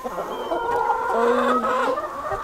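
Chickens clucking close by in a backyard coop, a steady run of overlapping bawks and throaty clucks from several hens lasting a couple of seconds, with no talking.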